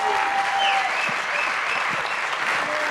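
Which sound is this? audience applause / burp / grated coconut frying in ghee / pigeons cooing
audience applause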